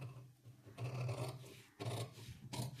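A marked katori blouse piece is cut out of fabric, with close, soft rasping cutting strokes coming in three short bursts with brief pauses between.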